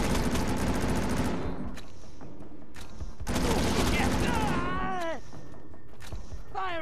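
Automated turrets in the video game Defiance fire in loud, sustained bursts of rapid gunfire, pausing and resuming, with falling whistle-like tones and game noise in between.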